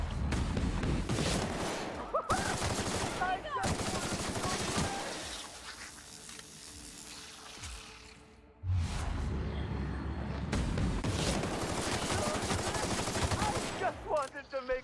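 Gunfire in The Outer Worlds DLC Murder on Eridanos, heard as loud bursts of rapid shots in repeated volleys with short gaps, and a pause midway before firing resumes.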